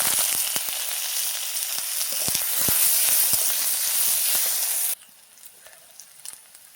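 Onions drop into hot oil in a pan already used for frying hilsa fish, giving a loud, crackling sizzle that cuts off abruptly to a faint hiss with light clinks.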